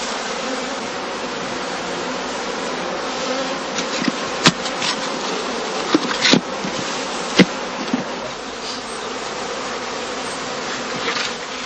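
Honeybees in heather skeps at a heathland apiary make a dense, steady hum that runs throughout, close and continuous, with a few brief sharp ticks and bumps rising above the drone.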